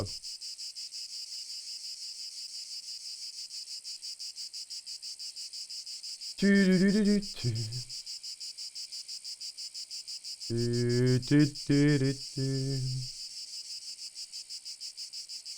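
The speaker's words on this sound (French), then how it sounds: "C'est les cigales du sud." Cicadas in southern France buzz in a continuous, pulsing high drone throughout, joined by two short stretches of a voice-like tonal sound partway through.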